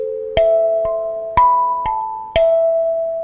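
A 17-key kalimba plays a simple practice exercise, four bright plucked tines sounding about once a second, each ringing clearly and decaying slowly.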